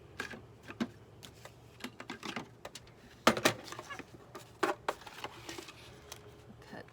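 Paper being cut for a paper pad craft project, a quiet close series of irregular clicks and snips of a trimmer or blade, with a few sharper cuts and no talking.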